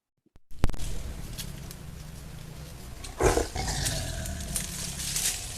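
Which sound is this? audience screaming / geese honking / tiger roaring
tiger roaring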